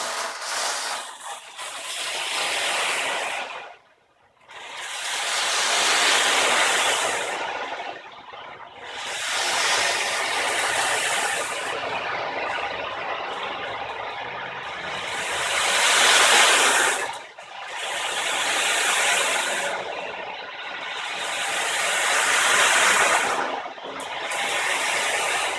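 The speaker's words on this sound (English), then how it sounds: "when you roll it around, it makes the sound of ocean waves" Frame drum with small pellets inside, rolled slowly so the beads wash across the skin like ocean waves; broad hissing surges swell and fade in repeated cycles, close and steady, with no voices.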